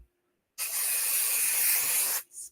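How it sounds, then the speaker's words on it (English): A spray bottle gives one steady, close hiss of mist lasting under two seconds, with a brief second puff right after. "Spray."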